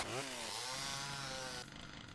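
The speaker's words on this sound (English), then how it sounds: "There's something hilarious about just sneaking up on someone with a running chainsaw and chopping their head off." A chainsaw in the Brutal Doom video game runs loud and steady, revving up to a high pitch early on, then holding a continuous buzzing drone before cutting to a thinner whine near the end.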